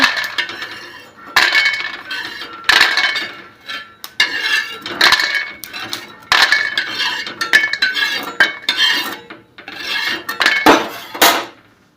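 Roasted peanuts being scooped out of a pan while making a capsicum and tomato dish, with repeated close clinks, scrapes and clatters of a utensil against the pan in an irregular rhythm.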